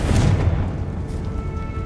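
A Confringo spell explosion in the video game Hogwarts Legacy: a single heavy, booming blast at the start with a deep low rumble that decays slowly over the following second or so, no talking.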